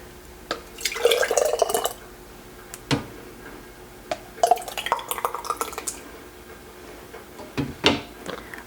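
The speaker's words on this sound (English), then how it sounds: "So I'll just continue to fill these pint jars here." Homemade tomato sauce being filled into pint jars, with irregular drips, clinks of glass and utensil taps scattered over a quiet background, close by.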